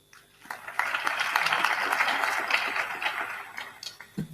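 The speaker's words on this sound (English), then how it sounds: "And I think you should give yourself a round of applause." Graduates at a university graduation ceremony clap for themselves in a full burst that swells quickly, holds for about three seconds, then thins out.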